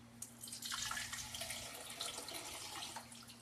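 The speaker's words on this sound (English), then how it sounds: "So now I'm going to pour out the water." Water is poured off shredded potatoes, a steady hissing splash of liquid running into a sink for several seconds, close and moderately loud.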